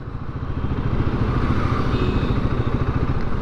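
Royal Enfield Himalayan 450 motorcycle rolling along in second gear at low speed, a steady close-up engine drone with a dense pulsing low rumble throughout.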